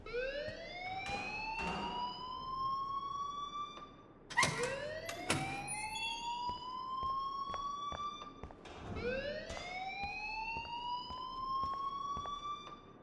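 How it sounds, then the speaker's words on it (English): Video game alarm wailing loudly in rising sweeps, three long cycles with a brief burst of harsher tones in the middle, continuous and close. "please turn off that alarm since that's your job"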